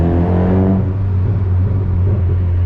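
A Mazda MX-5 MK2 driving on a UK road gives a steady low engine drone with a rumbling exhaust burble that rises briefly early on, then settles into continuous road rumble. The sound is close and fairly loud, and no one speaks.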